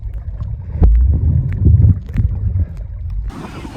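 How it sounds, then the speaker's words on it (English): Wind buffets the microphone at a breezy beach on an island bay as a loud, gusty low roar with a brief hissing surge near the end. "Pretty windy out here."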